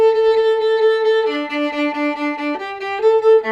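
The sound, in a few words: viola section playing Haydn on the string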